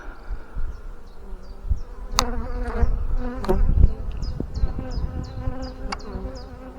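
Honeybees buzzing steadily close around an open hive during an inspection, a dense insect hum with occasional knocks and handling clatter of frames, no talking.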